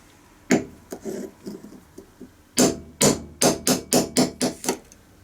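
Metal hammer blows ring out as a bar is hammered onto a seal on a BMW/Jaguar 5HP24 gearbox oil pump, a few scattered taps followed by a quick run of about eight sharp, loud strikes in steady rhythm.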